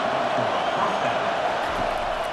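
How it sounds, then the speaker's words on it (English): Stadium crowd noise in the EA Sports College Football 25 video game, a dense steady roar from a packed stadium as the home fans get loud for their defense, sustained and unbroken throughout. "It is getting loud as this crowd tries to help its defense."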